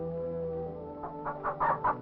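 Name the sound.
chicken clucking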